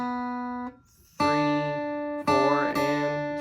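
Guitar plays the third bar of a beginner lesson piece, including three open notes in a row: a single sustained note, a short pause, then two strummed, ringing note groups, clear and close with no talking.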